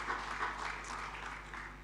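A church congregation at a Sunday worship service applauds, a soft, brief patter of many hands over a steady low electrical hum, fairly distant and faint.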